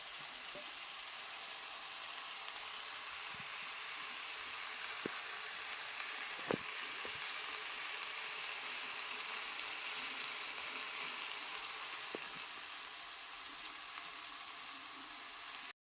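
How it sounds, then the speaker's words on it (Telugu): An onion curry cooking in a pan, with a steady, even hiss of sizzling and simmering that runs throughout, and a few faint soft clicks and taps, close and continuous. "ఇది కర్రీ ఇప్పుడు చాలాసేపు మగ్గాలి"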